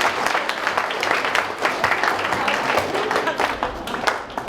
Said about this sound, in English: how about a nice round of applause for them?